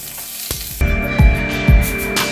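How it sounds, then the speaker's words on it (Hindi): Onion and tomato chunks frying in mustard oil in a kadhai give a steady close sizzle, with a few clattering stirs and a louder burst as more pieces hit the hot oil partway through. "प्याज और टमाटर का जो बड़ा टुकड़ा है उसको हम फ्राई कर लेंगे।"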